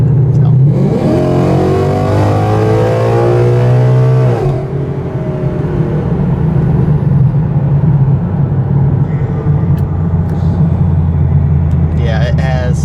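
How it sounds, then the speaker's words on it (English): Car engine and exhaust accelerating from the driver's seat, a loud rising rev sweep over the first four seconds, then a steady droning rumble while cruising, continuous and close. "I'm not a huge fan of the exhaust note, but it's still better than my car."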